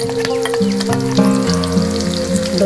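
Ginger and garlic paste hitting hot oil for a raw jackfruit curry, a loud close sizzle with bubbling crackle under a tonal background.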